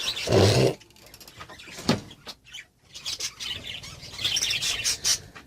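Young budgerigar chicks give shrill, rapid chirps and squawks in bursts, close by, with short gaps between calls.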